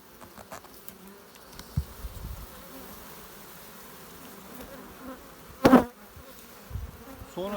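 Honeybees buzz around an opened hive during a colony check in a continuous, faint hum, with one louder buzz as a bee passes close to the microphone.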